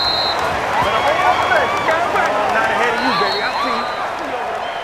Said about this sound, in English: And the home crowd applauding.